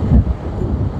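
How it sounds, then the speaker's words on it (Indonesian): Wind starting to blow along a road near Tamangapa–Antang, Makassar, a short low rumbling gust buffeting the microphone, steady and close with no voices. "sudah angin sudah mulai bertiup"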